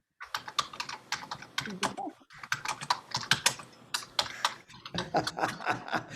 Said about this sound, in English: we can totally see and hear you typing